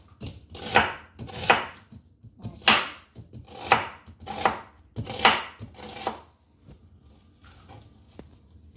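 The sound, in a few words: knife chopping onion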